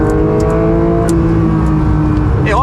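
A Porsche 911 GT3 992 engine revs hard on board at the Velo Città track, its steady buzzing drone climbing in pitch near the end of the run.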